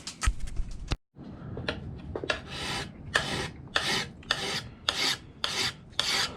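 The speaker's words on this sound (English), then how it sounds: "Alright, so I'm using my flat file." A flat file rasps across a horseshoe knife blade in repeated close, rhythmic strokes, each a harsh scraping burst with short gaps between, alone without talk.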